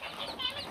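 Young chicks peep in a quick, thin chirping cluster, faint and brief, heard alone with no talk.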